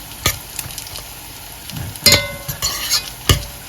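Carrots and potatoes being reheated in a pan, with a steady low sizzle broken by several sharp scraping stirs and clanks of a utensil against the pan, close and moderately loud, no talking.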